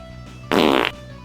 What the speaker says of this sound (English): let me fart into the microphone real quick